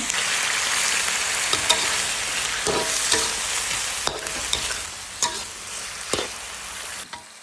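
Kale and fermented pork are stir-fried with a splash of water, giving a loud, close sizzle broken by sharp spatula scrapes and clanks against the pan.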